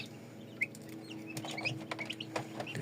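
Newly hatched Bronze Bourbon turkey poults in an incubator brooder give scattered high, thin peeps, several short chirps rising over a steady low hum, fairly soft and close.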